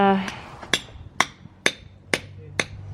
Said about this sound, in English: So we've got to chisel that one a little bit